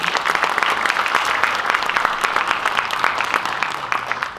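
Audience applause at a March Independence Activist award ceremony, a continuous dense clapping from a sizeable crowd, steady and loud from start to finish.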